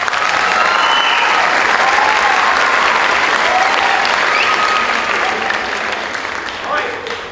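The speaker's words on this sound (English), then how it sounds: "Give them a round of applause." A concert audience applauds a middle school 8th grade band with loud, dense clapping that holds steady, then thins and fades toward the end.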